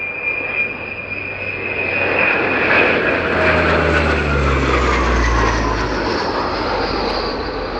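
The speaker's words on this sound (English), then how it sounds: "running in for a really good demonstration of its charisma and its qualities, the Breguet Atlantique" A Breguet Atlantique 2 maritime patrol aircraft makes a low flyby at an airshow. Its loud turboprop drone holds steady, and the engine tone slides downward as it passes close by.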